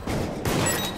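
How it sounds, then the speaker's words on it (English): Gunfire in the video game Deceit: a dense, loud burst of rapid shots filling the whole second, with no talk. "You just shot at us."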